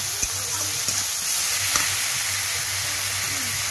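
Pepper, cumin, chili and ginger fry in hot oil for a village-style mixed vegetable curry, giving a loud, steady sizzle and hiss with a few faint stirring knocks, heard alone throughout.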